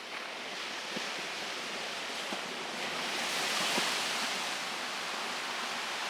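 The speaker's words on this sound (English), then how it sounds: "The big waves stop." Big ocean waves breaking on a Baja shoreline, a continuous wide roar of surf that swells briefly toward the middle before settling back, heard alone without voices.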